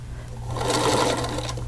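A sewing machine runs steadily, stitching together curved quilt fabric pieces for a double wedding ring block, with a constant close mechanical hum and buzz throughout and no talking.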